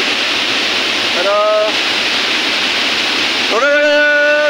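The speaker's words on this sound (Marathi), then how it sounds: "थोडं वेळ धबधब्याचा पाणी अंगार घेतोय" Shivdav waterfall in the Konkan pours in a loud, steady, close roar that fills the whole stretch, broken by two brief vocal calls.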